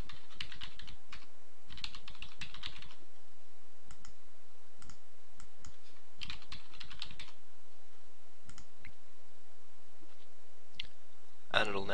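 Keys clatter on a computer keyboard as a root password is entered, in several quick clusters of close, crisp keystrokes separated by brief pauses, ending with a sharper final click.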